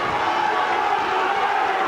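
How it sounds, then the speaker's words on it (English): A boxing crowd roars and cheers during a bout between Colin Dunne and Martin Jacobs, a continuous loud wash of many voices with no single voice standing out. "Listen to the crowd here."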